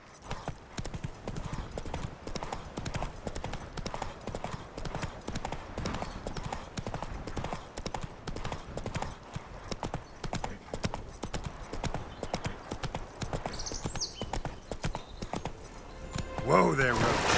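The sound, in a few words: horse hooves clip-clopping, from a video game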